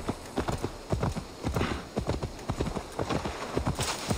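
Horse hooves clip-clop in a steady trotting rhythm in Assassin's Creed Valhalla, close and loud across the whole stretch, with faint game ambience underneath and no voice.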